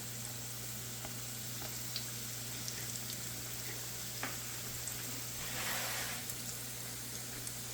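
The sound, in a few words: egg rolls frying in oil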